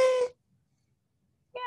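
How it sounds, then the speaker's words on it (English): A shiny golden New Year party noisemaker blown in two short bursts, a brassy buzzing honk at the start and another beginning at the end, with silence between. "I have my little sound noisemaker here."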